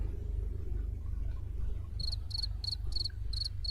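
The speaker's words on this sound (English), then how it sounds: "I hear crickets." Cricket chirps from a soundboard button come in about six short, evenly spaced bursts over a steady low rumble, starting about halfway through and ending with the clip.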